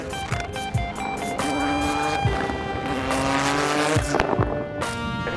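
A purpose-built Suzuki SX4 Coupe race car screams up the Pikes Peak hill climb, its engine loud and continuous with rising and falling revs through gear changes, punctuated by sharp pops and tire noise.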